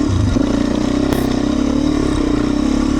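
Beta 350 RE motorcycle engine warming up, a loud, steady idle with an even droning rumble held throughout at close range.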